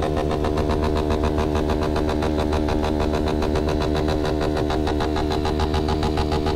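A motorcycle engine runs steadily nearby with a fast, even pulsing throb that holds constant the whole time and has no voices over it.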